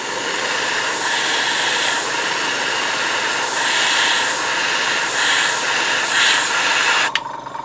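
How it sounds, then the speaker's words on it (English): Close, steady hissing air from a blower drying paint on a model stencil comes in several bursts of a second or two each, with short pauses between them and a small clatter near the end. "dry it with the air."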